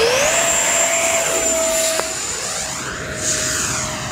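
E-flite F-15 electric ducted-fan RC jet at full throttle, a loud steady high-pitched turbine-like whine with a rising pitch at the start, holding strong and close before easing slightly as it is tossed and flies away.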